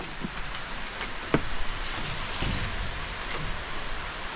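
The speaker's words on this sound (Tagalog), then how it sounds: "Ayan, saktong umulan." Steady rain patters down on a farm, a broad even hiss with a few louder drips, heard alone without talk.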